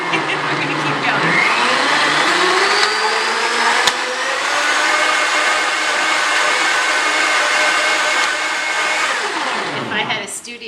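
Blendtec blender running at full speed, a loud, sustained high-pitched whir whose pitch climbs at start-up and then holds steady before winding down near the end, with no talk over it.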